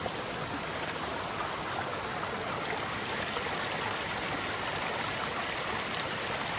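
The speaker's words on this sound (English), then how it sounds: "Love the sound of the river." A river stream rushes along a hiking trail in the New Hampshire mountains, a steady, close, broadband wash of flowing water that stays constant throughout with no voices.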